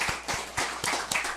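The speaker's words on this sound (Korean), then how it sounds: "여러분 박수로 좀 보내주시기" A church congregation claps in a slow, sparse rhythm, about six distinct claps spaced evenly, moderately near and fairly quiet.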